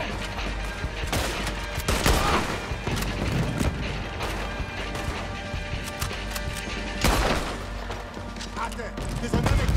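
Repeated gunfire and cannon blasts in the video game Red Dead Redemption 2 during a battle on Guarma, loud bursts of shots and crashes over a dense, noisy background, with voices shouting through it.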